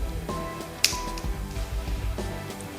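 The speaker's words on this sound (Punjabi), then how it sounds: "ਔਰ ਮੈਂ ਚੁਟਕੀ ਵਜਾਵਾਂਗਾ" A single sharp finger snap rings out close and clear over a low background hum, with only faint room noise before and after.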